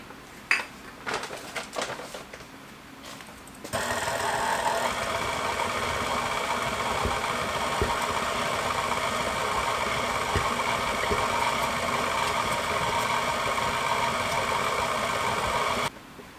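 A stand mixer churns egg noodle dough as wheat flour is gradually worked in, a steady loud motor whir with faint clinking starting after a few seconds of quieter handling and running on unbroken to the end.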